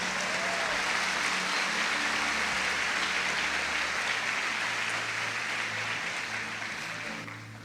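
A church congregation claps together in sustained, dense applause that fills the room and slowly fades toward the end.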